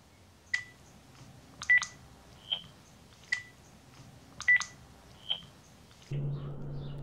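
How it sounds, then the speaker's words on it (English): Faulty telephone line giving a repeating cycle of short pickup bleeps, a pulse and closing tones, about three rounds in seven seconds, faint over hiss, ending in a steady low hum. "You're going to hear the pickup of the line, and then the pulse, and then the closing of the line."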